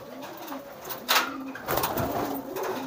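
A young pigeon gives soft, close coos and rustles, joined by a brief louder flutter or call, in a quiet indoor setting with no voices.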